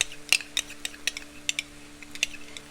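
A spoon clinks and scrapes against a pot as tomato paste is stirred into a shakshuka tomato sauce, a series of sharp, evenly spaced metallic taps over a faint steady hum, no talking.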